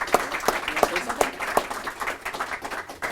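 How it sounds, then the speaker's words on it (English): A small crowd at an Albuquerque city news conference applauds a 13-year-old boy, with close, sharp individual claps standing out over a looser patter that tapers off over about three seconds. "So let's give Donovan a big round of applause."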